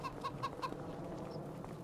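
Chickens in the Farming Simulator 25 video game give a short run of quick, faint clucks, four rapid calls followed by softer scattered sounds over a low background.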